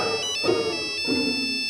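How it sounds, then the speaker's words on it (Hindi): A mobile phone ringtone chimes close and loud, a bright repeating electronic melody with a few rhythmic pulses, heard alone. "मेरी घंटी बज रही है।"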